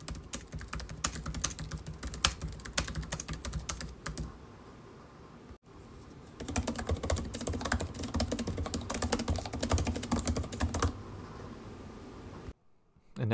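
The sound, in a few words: typing on laptop keyboards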